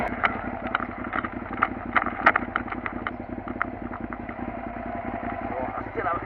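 A motorcycle engine runs steadily at idle with an even, rhythmic pulse and some clattering taps, heard up close for several seconds without speech.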